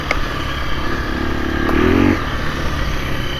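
A 2024 KTM 350 EXC-F dirt bike engine running in first gear with a 13-tooth sprocket, a loud near steady engine drone with a brief rise in revs before settling back.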